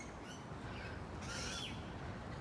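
Outdoor bird calls sound faintly over steady background noise at Darling Harbour in Sydney, Australia, with a brief higher whistling call standing out partway through.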